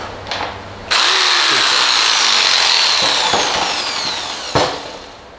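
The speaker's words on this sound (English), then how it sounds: "Drill." A power drill bores into an MDF back panel for a PC cabinet, a loud continuous whine running for several seconds, with brief knocks before it starts and a thump as it stops.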